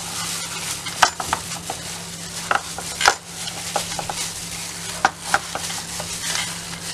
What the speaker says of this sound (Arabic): وهنقلب السمك كويس بالتتبيلة من جوه ومن بره.